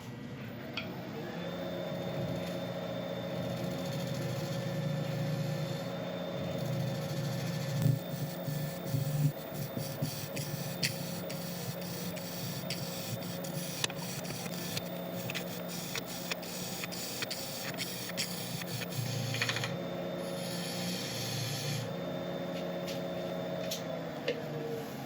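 A wood lathe spins a large burl at high speed while a Record Power carbide cutter works it, giving a steady continuous hum with scattered light ticks and scraping contacts, fairly quiet and without talk.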